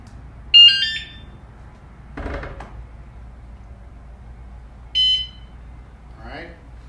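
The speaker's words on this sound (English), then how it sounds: "as long as there's movement, the alarm will go off" A bike anti-theft alarm triggered by movement gives short, bright electronic chirps twice, a few seconds apart, with a brief rustle between and low background hum.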